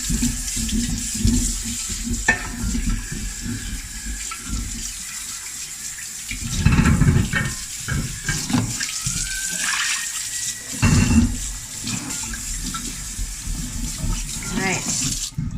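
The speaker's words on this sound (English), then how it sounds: "I'm gonna give this one a good rinse." Tap water runs and splashes inside a kombucha brewing jar as it is rinsed, a close, continuous gushing with sloshing bursts and clinks from handling the jar.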